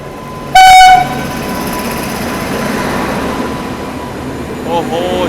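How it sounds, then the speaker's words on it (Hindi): A Mahanagari Express train with a generator car, passing on an Indian railway line, sounds a loud horn blast near the start, then a steady rumble of wheels and carriages rolls on close by. "ये आ रही है महानगरी एक्सप्रेस।"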